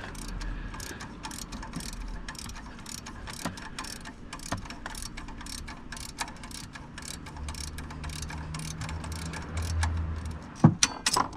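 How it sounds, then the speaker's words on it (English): A ratchet wrench works loose a band clamp on a 2012 Ram 3500 with the 6.7L engine during an EGR delete, sounding as rapid, close clicking strokes in short bursts, with a few sharper metallic knocks near the end. "Now we can use it our ratchet wrench and remove it just like the other side."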